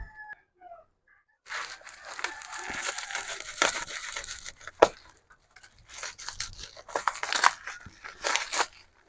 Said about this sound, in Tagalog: Kuha lang tayo ng gunting.